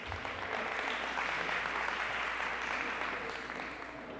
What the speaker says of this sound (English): Applause to you all.